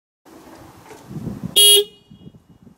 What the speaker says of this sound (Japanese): クラクションはシングルホーンです。